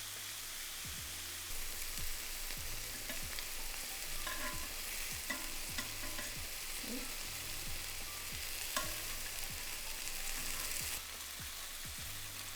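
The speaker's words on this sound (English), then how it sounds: "add the scallops to the pan. And then we're going to cook for 3 to 4 minutes until they turn a nice golden colour" Scallops pan frying in a hot pan, a steady close sizzle and crackle running throughout, with occasional scraping and tapping as they are moved and stirred.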